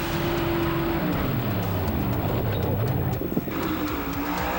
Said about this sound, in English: You could hear the second gear shift.